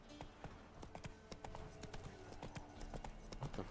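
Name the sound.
horse Roach galloping hooves in Witcher 3 video game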